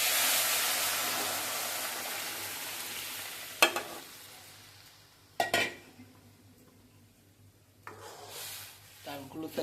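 Lentils fry in hot oil in a pan, a soft hiss fading over time, broken by a few sharp clanks and scrapes of stirring against the pan.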